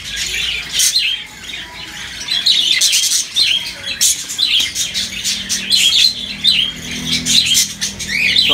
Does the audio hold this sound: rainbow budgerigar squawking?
yes